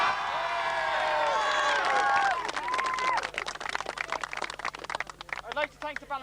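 Crowd at the 1991 Charlestown v Knockmore under-21 A county football final cheering loudly, then breaking into scattered clapping that thins out toward the end.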